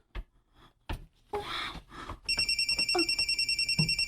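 A cellphone starts ringing at close range with a steady, repeating electronic ringtone that keeps pulsing after a few gasps and rustles.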